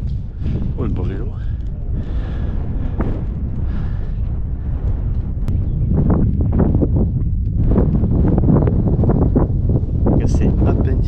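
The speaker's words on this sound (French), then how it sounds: "Il y a un petit vent, ça fait du froid." Wind buffets the microphone during a cycling ride on a cool day, with a heavy, constant low rumble and gusts. Someone speaks French at intervals over the noise.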